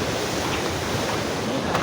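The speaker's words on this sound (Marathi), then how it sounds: "लाटा बघा कशा वाढलेला आहे समुद्र" Rough sea surf washing against a rocky shore on a rainy, windy day, a steady continuous roar of waves with wind noise, no voices.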